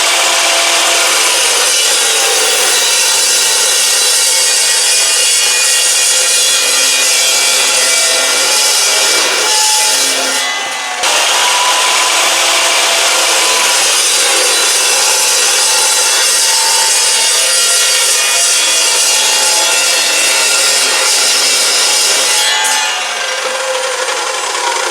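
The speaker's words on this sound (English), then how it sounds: "Time to cut down the axle tube and get it welded back together." A saw cuts through a steel truck axle tube on an S10 rear end, producing a loud, continuous harsh grinding rasp that runs steadily, with one brief dip partway through.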